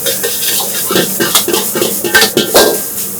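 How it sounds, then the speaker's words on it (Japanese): A metal spatula scrapes and taps against a wok in quick, uneven strokes, loud and close, with clinks as half-set eggs are broken up and stirred for fried rice. "卵が半熟状になるまでちょっと待ってからこうやってほぐし始める。"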